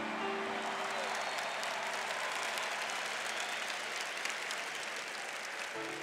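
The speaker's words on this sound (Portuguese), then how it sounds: "Aplauda também a decisão dos irmãos que estão em casa." A church congregation applauds in a sustained wash of clapping from many hands, loud and even throughout, with faint organ-like tones at the start and end and no voices.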